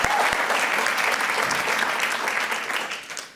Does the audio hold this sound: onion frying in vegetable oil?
no